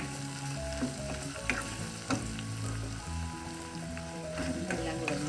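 Chili powder and coriander powder are sautéed in oil for a ladies finger and tomato curry, producing a dense, steady sizzle with brief stirring scrapes over a faint tonal background.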